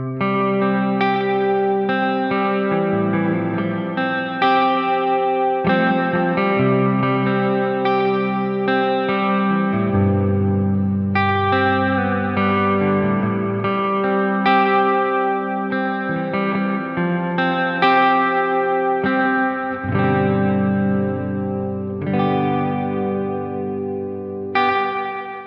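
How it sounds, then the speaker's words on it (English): A REVV Dynamis guitar pedal's ambient reverb washes over a continuous electric guitar passage, with sustained chords, long lush tails and a steady level throughout, no talking. "A really nice reverb that's super usable"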